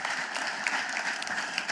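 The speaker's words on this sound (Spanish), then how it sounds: "Le haces aplauso al Señor" Church congregation applauding during a sermon, a dense, even wash of clapping from many hands that holds steady throughout without individual claps standing out.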